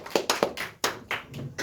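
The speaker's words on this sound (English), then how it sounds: "We'll give Lucia a little clap." A small class of schoolchildren gives a classmate a short round of clapping, a few sharp nearby claps in a loose burst over about a second and a half, with no talking.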